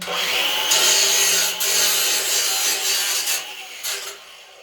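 Close, steady abrasive grinding on a weld inside a cramped home-built steel submarine hull, rising and dipping in level with short breaks as the tool shifts position.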